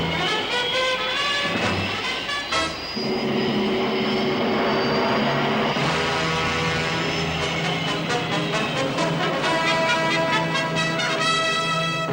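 A Thunderbirds aircraft touches down in an animated series, its loud, sustained engine roar and high whine filling the scene, shifting pitch partway through and holding steady to the end.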